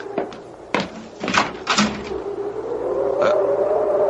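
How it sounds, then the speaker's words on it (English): Door sounds in a radio drama: a few sharp knocks and thumps in quick succession, close and fairly loud, followed by a rising low hum that continues to the end, with no talking. "Someone's at the door."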